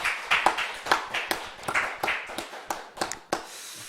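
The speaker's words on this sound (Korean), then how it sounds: "하나님 앞에 영광의 박수 올려드리겠습니다." A church congregation at a Friday late-night prayer meeting claps in praise, a series of sharp hand claps in an uneven rhythm, each one distinct, with a soft murmur between them.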